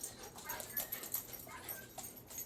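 Small dogs whimper and let out short yips in a loose, uneven series, moderately close, during training to calm barking, spinning and overreacting around bigger dogs.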